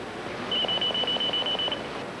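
A PayJet electronic pager sounds a thin, steady high-pitched beep lasting about a second, with a faint pulsing chirp beneath it, clean and close against a quiet background.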